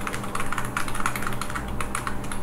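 Someone types on a computer keyboard while entering text into an Excel sheet, producing a close, continuous patter of rapid key clicks.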